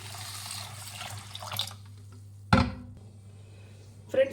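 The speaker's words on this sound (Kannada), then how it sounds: "ನೀರು ಹಾಕಿ ಚೆನ್ನಾಗಿ ಒಂದೆರಡು ಸಲ ವಾಶ್ ಮಾಡಬೇಕು ಇದನ್ನು" Water splashes and sloshes in a vessel in short bursts as flattened rice (poha) is washed, with a low steady hum underneath and quiet gaps between the swishes.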